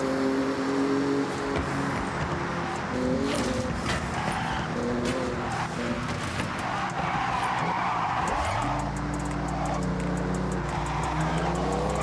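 Porsche racing through a high-speed zone in Forza Horizon 6, its engine howling loud and close with rising gear sweeps, a tire squeal, then a sustained deep roar under full throttle.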